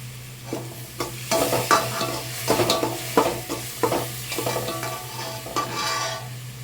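Curd is stirred into a cooking masala in a pan, a spoon scraping and knocking in irregular strokes over a steady sizzle, close and moderately loud with no voices.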